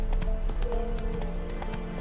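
A horse's hooves clip-clop in a quick, steady rhythm while ridden in The Witcher 3, close and moderately loud, with faint background game sounds.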